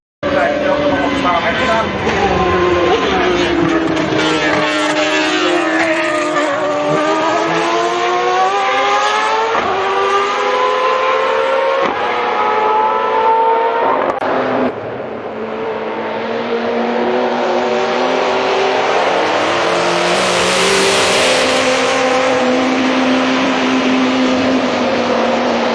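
An AI-generated Sauber C29 Formula 1 race car engine screams loudly and continuously, its pitch sweeping up and down through repeated revs and gear changes, with a brief dip midway before it surges again.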